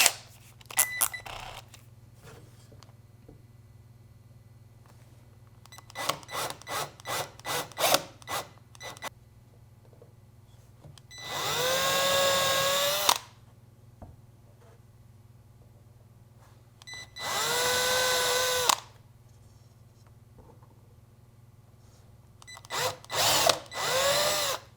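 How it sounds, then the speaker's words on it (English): A power drill bores pilot holes in wood for mounting speakers in a Bluetooth speaker build, in several bursts: quick stuttering trigger pulses, then two long steady whines, then more short bursts, with quiet pauses between. "Let's go ahead and drill these."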